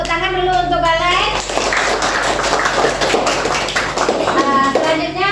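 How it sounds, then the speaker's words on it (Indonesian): A classroom group of students claps for a classmate during a micro-teaching lesson on data analysis, a dense burst of clapping between a teacher's spoken lines at the start and end. "Tepuk tangan dulu untuk Galen"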